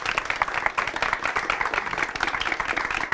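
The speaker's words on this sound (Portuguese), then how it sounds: "Uma salva de palmas para eles que já estão aqui" A studio audience on a religion talk show gives a round of applause for arriving guests, dense, steady clapping that stays strong from start to finish.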